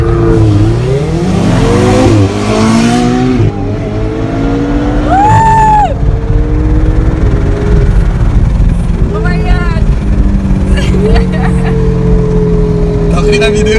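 A Porsche 718 Cayman S racing a Ferrari on a Dubai circuit: loud sustained engine roar with rising and falling revs and gear changes, close and continuous throughout.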